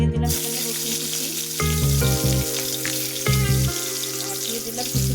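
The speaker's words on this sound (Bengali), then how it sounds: "দিয়ে দিলাম এখানে রসুন কুচি," Chopped garlic dropped into very hot oil, with a steady loud sizzle and crackle running continuously with bright spitting bursts, close by and heard alone.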